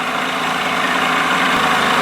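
A 1987 Johnson 70 hp outboard motor runs steadily without stalling, fitted with a smaller prop, giving a loud, continuous close-up engine drone with no voices.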